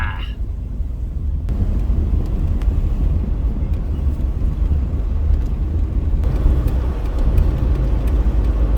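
A 1976 Jaguar XJC V12 cruising on the road, heard from inside as a constant dense rumble of engine and road noise, loud and steady throughout with a slight shift partway through.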